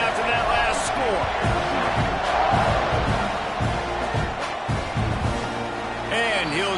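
A football stadium crowd at Texas A&M vs Iowa State buzzes loudly and continuously, a dense roar of voices and cheers with a commentator talking over it.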